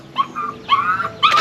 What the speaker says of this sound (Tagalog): Ingay mo dyan ingay ng aso natin tinali natin at magulo.